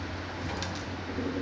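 A Punjabi breeder pigeon coos softly and steadily amid a faint, even background hum, with no voices present.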